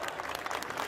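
Brief burst of audience applause at a Hindi stand-up comedy show, dense steady clapping filling the whole moment.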